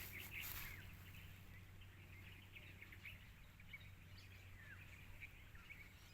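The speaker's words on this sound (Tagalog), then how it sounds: "Parang stereo sounds, kaliwat kanan na huli ng mga ibon" Birds calling from both sides across open countryside pasture where goats graze, faint distant chirps and tweets scattered over a quiet, steady background hum.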